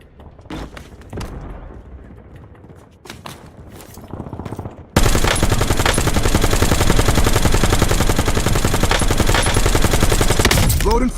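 Gunfire in a shooting video game: scattered single shots and short bursts at first, then a sudden nonstop roar of rapid automatic fire, loud and close, with voices faintly mixed in.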